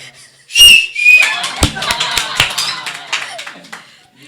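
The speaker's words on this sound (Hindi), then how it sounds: "और इस पे तो सीटी बजनी चाहिए।" An audience at a church testimony gathering gives two sharp whistles, followed by scattered claps and taps that fade out.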